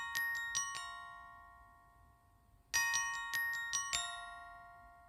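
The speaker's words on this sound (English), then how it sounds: "for the bells, just the same chord pattern, same arpeggio as the piano" Bright bell arpeggio made with stock FL Studio plugins, with ping-pong delay and reverb, for a bouncy orchestral beat: two bursts of quick chiming notes, each ringing out and fading, fairly quiet with no voices.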